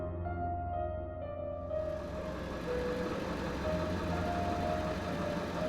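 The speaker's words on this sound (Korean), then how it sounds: "제가 있는 배로 접근하는 다른 배의 엔진 소리가 들려왔습니다" A boat engine drones steadily as it approaches at night on the water, a low continuous hum that grows fuller and a little louder after the first two seconds, with no voices.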